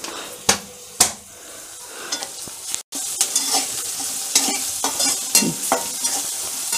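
Onions fry in oil with salt in a pan for a yellow potato bhaji, with a continuous bright sizzle broken by sharp scraping stirs and clacks of a spoon against the pan, close and fairly loud.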